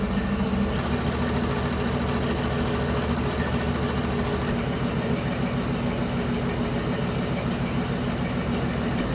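A 1975 Ford F150 with a budget-built 390 FE V8, running for the first time in 30 years, idles with a steady, even rumble and a constant throb that never changes pace.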